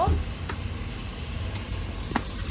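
Cinnamon, bay leaf, cloves, tomato and dal fry in hot oil with a steady, even sizzle, and a few faint clicks of a utensil stand out over it.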